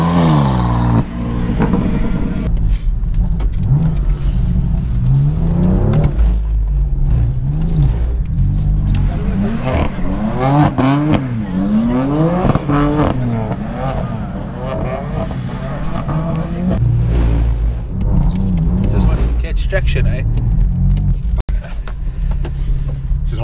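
Sports car driven hard at a gymkhana event, engine revving and accelerating in repeated surges and pitch sweeps as it shifts and turns, loud and close from inside the cabin, with occupants talking over it.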